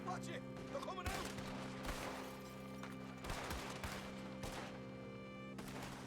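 Gunfire in a video game cracks out in a series of sharp shots at irregular intervals, set against a steady low background hum with faint voices.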